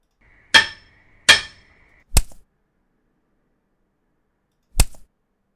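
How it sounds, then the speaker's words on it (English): A hammer strikes concrete or stone in four sharp, isolated impacts: two ringing hits close together, a third shorter knock, then a pause before a final blow, each loud and near with no talk. "A hammer on concrete is what I'm looking for."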